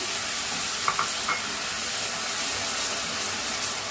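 Grated onion fries in a pan for a beef curry with jackfruit seeds, making a steady, dense sizzle close up, with a couple of faint utensil touches early on.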